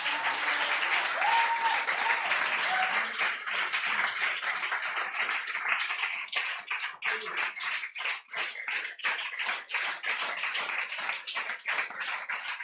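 A church congregation at a Sunday worship service breaks into sustained applause, dense clapping from a crowd that thins into more distinct, rhythmic claps toward the end, with faint voices mixed underneath.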